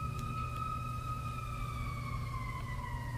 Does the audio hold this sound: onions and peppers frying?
no